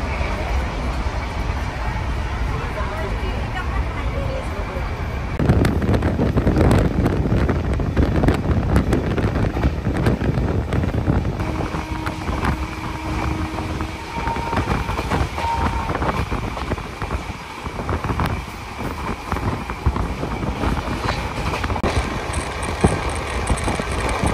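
Yoga Nagari Rishikesh Express rolling along between Ahmedabad and Haridwar, heard from on board as a steady broadband rumble with rattling and wind buffeting throughout, loudest from about five seconds in, with some faint speech mixed underneath.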